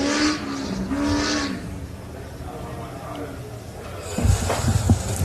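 Off-road pro buggies racing at the Loveday 400 pass with a rising engine roar and tyre noise, heard at moderate distance under a commentator's voice that runs through most of the clip.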